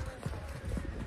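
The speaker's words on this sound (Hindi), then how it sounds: "मेरा घोड़ा स्लिप हो जा रहा है" Horse hooves clip-clop at a steady, uneven walking rhythm while riding on a trail in Kashmir, soft and low, with faint background murmur around the footfalls.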